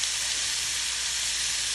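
Cajun jambalaya ingredients sizzle and brown undisturbed in a one-pot meal, a constant bright hiss of frying with no breaks or voices, close and moderately loud.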